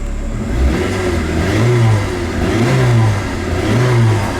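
A Chrysler PT Cruiser engine idles fast and steady up close at startup high idle, a low throbbing hum that swells gently in a slow, repeating rhythm.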